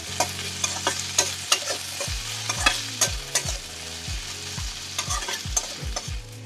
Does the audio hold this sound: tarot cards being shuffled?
no